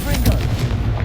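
A Confringo spell bursts in Hogwarts Legacy, a loud booming blast with a rumbling low-end tail that rolls on for about a second.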